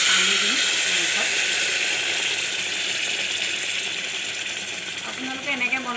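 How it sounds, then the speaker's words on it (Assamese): Water poured onto meat frying in a pressure cooker, a loud hissing burst of steam and sizzle that slowly settles, with some clinks of utensils and faint voices underneath. "এতিয়া পানী দিম মাংসত"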